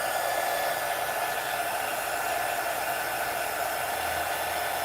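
A hair dryer or small blower runs steadily and loudly close by, aimed at glue to loosen it, giving an unbroken broadband whoosh with no talk.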